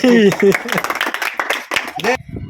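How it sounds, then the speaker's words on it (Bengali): Hands clap for a contestant in a ball-rolling challenge game, a scattered patter of claps mixed under loud, close talking voices. "হাততালি"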